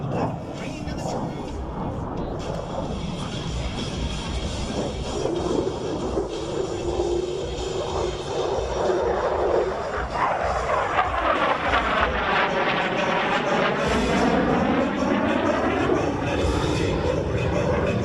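A USAF F-16 Viper jet performing at an air show roars overhead, its engine noise swelling and sweeping in pitch as it passes, with an announcer talking over the sound throughout.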